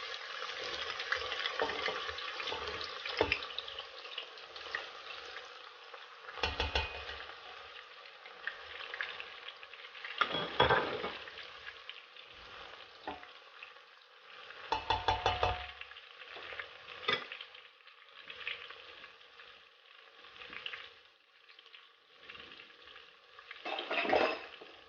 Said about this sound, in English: I'm going to be adding my onions.